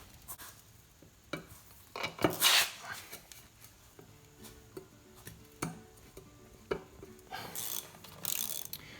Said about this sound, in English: I'll retighten as much as I can with the ratchet